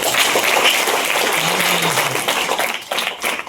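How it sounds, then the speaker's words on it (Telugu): Students at a school event applaud, dense clapping from a crowd filling the whole stretch, loud and continuous before thinning slightly near the end. "వాళ్ళందరికీ కూడా మీరు ఒకసారి క్లాప్స్ కొడతారు"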